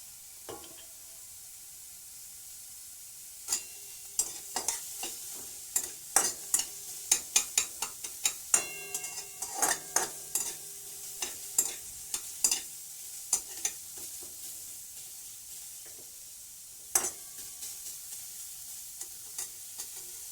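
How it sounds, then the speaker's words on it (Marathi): Vegetable bhaji being stirred in a pan with salt, chilli and turmeric, a spoon scraping and clacking in bursts over a low steady sizzle, close and fairly loud, no talking. "आणि हे ना पूर्ण मिक्स करून घ्यायचं पूर्ण आपल्या भाजीला मीठ मिरची हळद जी आपण टाकली ही पूर्ण याला लागली पाहिजे"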